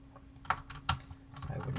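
A computer keyboard is cleaned, giving a few sharp, irregular clicks and taps of keys and plastic up close over quiet background noise.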